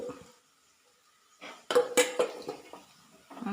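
A few clinks and scrapes of a utensil against a pan as cooked corn flour is mixed into sautéed onions and green chillies for old-style school upma, after a quiet pause, with no voices.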